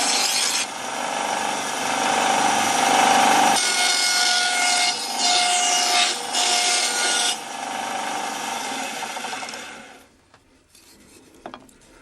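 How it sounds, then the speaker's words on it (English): Bandsaw cutting a strip of wood in half for dulcimer soundboard braces, a loud continuous rasping whine with shifting pitch as the blade passes through, ending when the cut finishes and the machine quiets. "this we can cut this in half. Just by keeping my hands well back in the bandsaw"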